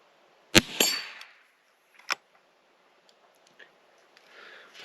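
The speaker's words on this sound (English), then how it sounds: "if you pull that lever down hard enough, most of the time it'll kick that brass right out" Lever of a Stevens Favorite Model 30 single-shot rifle snapped down to kick out a spent brass case: a few sharp, close metallic clacks and clicks with quiet gaps between them, no talking.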